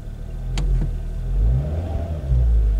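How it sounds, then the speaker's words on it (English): A Ford Focus ST engine rises in a steady rev as the throttle is pressed, a loud, close low-pitched drone that swells and holds for a few seconds with no talking. "Let's just give it some gas."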